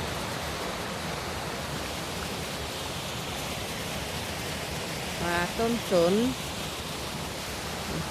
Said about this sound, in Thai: น้ำตกเดี๋ยวจะข้ามน้ำตกนี่ไป